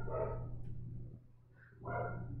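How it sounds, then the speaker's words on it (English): A dog gives two low, muffled barks close by, spaced about two seconds apart, over a steady background hum. "Barks in his face."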